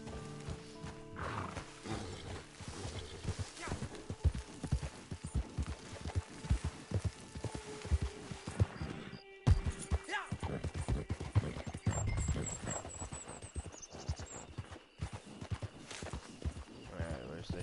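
Horse hooves clip-clop steadily in the game Red Dead Redemption Online, a rhythmic trot of close, crisp hoofbeats with occasional snorts, continuing across the whole stretch with a short pause near the middle.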